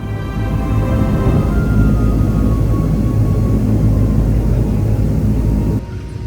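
Airplane at the small Tasiilaq airport in East Greenland, a loud, steady engine rumble and drone holding for about six seconds before dropping slightly at the end.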